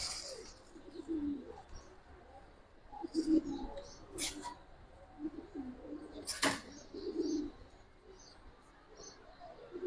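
Pigeons kept in a loft, a male and a molting female among racing and high-flying pigeons, give soft low coos in repeated bursts at a moderate distance, with a few sharp brief clicks or knocks between them.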